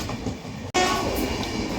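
A Mangaluru–Mumbai LTT Duronto Express runs along the Konkan Railway, producing a loud, steady rumble and rattle of carriages that cuts out for an instant, then returns at full strength.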